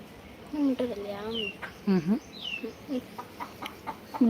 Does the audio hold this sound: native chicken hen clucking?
yes